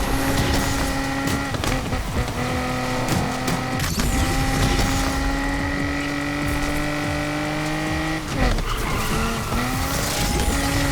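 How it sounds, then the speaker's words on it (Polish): A Mazda RX-7 races through Need for Speed Unbound with a loud, steady engine drone and long tire squeals as it skids and drifts, the engine note jumping near the end. No one speaks. "jedziemy zwyczajną Mazdą rx 7"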